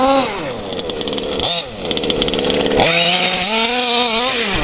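Modified 29cc petrol engine of an FG Marder Beetle RC car with a race ECU revs hard and close, a loud buzzing rasp that climbs, dips sharply and surges again in rapid throttle blips.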